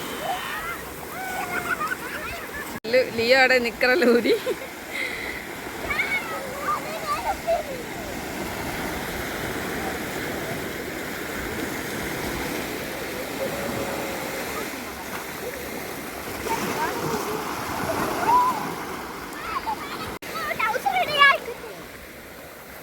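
Kids play in the water at a beach at night, with a steady wash of surf and splashing under close family chatter and occasional excited voices.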